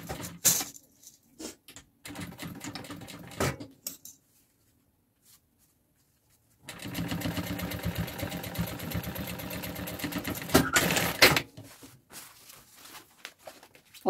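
A sewing machine stitches a nylon 600 baby bag with a bagum lining. Short motor bursts come first, then one long, steady whirring run of stitching with small stops in between.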